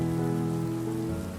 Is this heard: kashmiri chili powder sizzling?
no